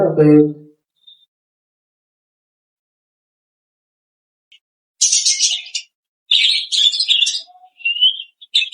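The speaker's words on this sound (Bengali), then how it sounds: "এই যে আমার পাখিগুলো চলে আসছে" Pet birds give bursts of high, quick chirps and tweets in the latter half, nearby and fairly loud, after a brief voice at the start and a stretch of silence.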